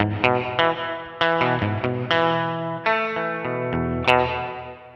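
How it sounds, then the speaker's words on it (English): Electric guitar chords and notes through a NUX MG-300 are struck in a loose rhythm, each one ringing into a smooth, bright plate reverb tail. "Got a plate reverb, simple 2-knob"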